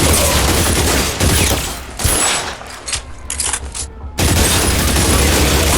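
Gunfire in the video game L.A. Noire, loud dense bursts of rapid shots and booms in close succession with brief gaps, filling the whole stretch without speech.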